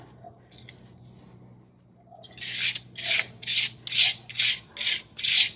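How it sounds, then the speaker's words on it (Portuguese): Hands roll and knead clay, pressing and turning it like a roll: a few faint rubbing touches, then a steady series of seven rhythmic, fairly loud raspy pushes. "vou enrolando que nem um rocambole, amassando"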